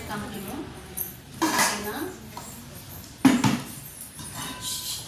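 A heavy metal pressure cooker being lifted and set down, giving a few loud clanks and knocks with softer handling rattles between them, while a person talks nearby.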